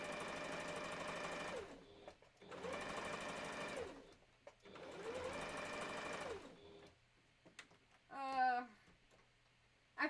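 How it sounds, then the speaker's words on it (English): A sewing machine stitches a Christmas stocking in three rhythmic bursts of rapid mechanical clatter, each about two seconds long with short pauses between, followed by a brief squeak and a faint voice. "I feel bad whenever I have to do the sewing machine part."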